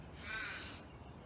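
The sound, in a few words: bird calling from a tree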